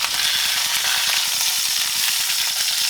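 Burger patties fry in a pan with a loud, continuous sizzle and spitting crackle, close and steady throughout, with no talking.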